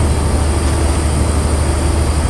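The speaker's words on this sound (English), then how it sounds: "Another train zooms past us at a great rate of knots." A passing train rushes by at speed in Train Simulator Classic, a loud, dense, steady roar with deep rumble underneath that holds throughout without any talk.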